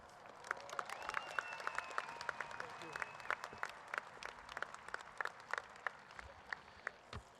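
A graduation audience at a high school commencement claps and cheers, sharp hand claps scattered through a quiet, fairly distant crowd, with a sustained whistle or cheer rising briefly early on.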